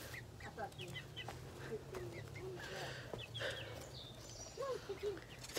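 Chickens cluck and murmur softly in a steady scatter of short calls, with quiet human voices occasionally mixed in.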